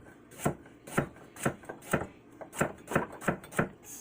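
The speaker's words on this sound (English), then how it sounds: "Slice up our carrots." A knife slices through carrots on a cutting board for soup, eight crisp, evenly spaced chops about half a second apart, close and clear with no talking.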